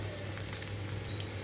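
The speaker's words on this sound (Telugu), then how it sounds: "హై ఫ్లేమ్లో ఉంచి తాలింపు అంతా చిటపటమనేదాకా వేయించుకుంటున్నాను" Seeds, dried red chillies and chopped garlic splutter and sizzle in oil over a high flame, a dense, continuous crackle with scattered pops, fairly quiet and heard alone.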